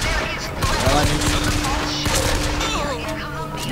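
Rapid bursts of gunfire sound in the shooter video game Bioshock Infinite, a dense crackling volley that runs through the whole moment with game voices and effects mixed in underneath.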